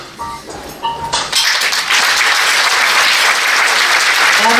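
An audience claps at the Mrs Universe Belgium 2020 pageant, scattered claps quickly swelling into loud, sustained, dense applause close by.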